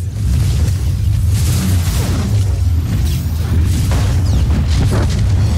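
Turrets firing and exploding during a Star Wars: The Old Republic boss fight, a steady run of loud, heavy booms and whooshing blasts.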